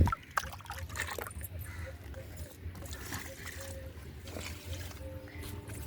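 Diluted mustard oil cake water being poured onto garden plants, with a continuous trickle and splash running through the clip beside low rumbling background noise, close by and moderate in level.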